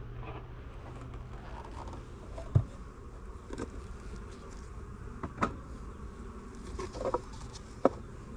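Honey bees buzz around an open farm hive during an inspection as an empty super is added, a steady close hum broken by a few short knocks and clicks.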